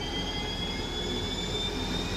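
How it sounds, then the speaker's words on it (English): The high-speed turbine engine of an M1A2 Abrams tank runs with a steady, even jet-like whine and broad roar, loud and unbroken throughout with no talking. "Powered by a high-speed turbine engine, that's right, it has a jet engine"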